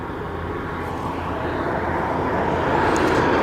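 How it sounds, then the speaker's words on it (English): A Piper Cherokee Warrior II light aircraft circles at low height near Aberdeen Airport, its propeller engine a steady broadband drone that swells gradually louder as it approaches, heard outdoors from the ground. "Piper Cherokee Warrior 2. Well, I never. It's circling. Not at a great height, 1400 feet."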